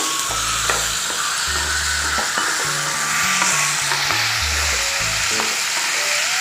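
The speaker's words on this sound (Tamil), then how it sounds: "இப்போ நம்ம உப்பு போட்டு வதக்கலாங்க உப்பு போட்டு வதக்கினா நல்லா இன்னும் குழைய வதங்க தக்காளி" Tomatoes sauté with salt in a pan for chutney, giving a steady close sizzle with repeated spoon-stirring scrapes and knocks throughout, with no talking.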